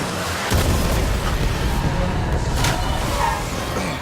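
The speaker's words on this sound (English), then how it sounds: "Stuff explodes. Lots of explosions." Explosions tear through an action film scene of a drone attack near water, heard as a loud, continuous barrage of deep rumbling booms and blasts with no pause across the whole stretch.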